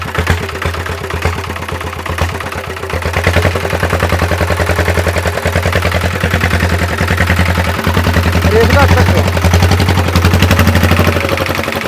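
A homemade motorcycle engine runs steadily and fairly close, its rapid exhaust pulses holding a constant rhythm that swells a little louder after the first few seconds, with no voices.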